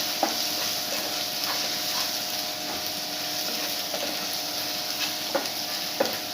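Chopped tomatoes drop into a pan of frying kanthari chilies, giving a steady close sizzle with a few scattered clicks of a spoon against the pan.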